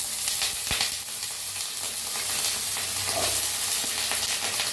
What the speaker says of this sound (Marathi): बटाटो भाजून घेऊया